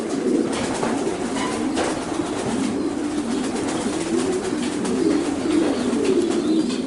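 Racing pigeons cooing, a steady stream of soft, low rolling coos close by, with a continuous murmur of several birds throughout; no talking.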